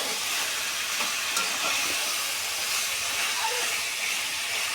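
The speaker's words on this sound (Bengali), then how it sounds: "এটা একটু নেড়ে চেড়ে নিই।" Food cooks in oil in a pan, giving a loud, steady hissing sizzle throughout with faint scrapes of stirring beneath, and no voices.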